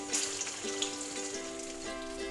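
Garlic and chillies frying in a pan for a traditional dried-fish curry, giving a steady close sizzle with a few louder crackles, no voices.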